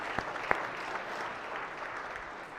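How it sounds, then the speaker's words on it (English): Applause in a state Senate chamber during a floor session, a modest round of clapping from a small crowd, fairly distant and even, with a couple of sharper claps near the start. "Please give them a round of applause."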